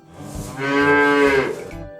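A drawn-out moo imitated by children's voices, rising and holding for a moment before trailing off, close and fairly loud.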